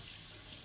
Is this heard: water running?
yes